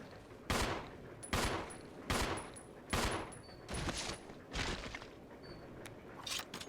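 Gunfire in the Resident Evil 0 remaster as zombies are shot: a series of sharp, fairly faint bursts spaced about a second apart, with no talk over them.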